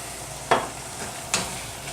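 A spoon stirs a mixture of chopped clams and melted Brie in a pan, making two short, soft scraping swishes over a low background hiss.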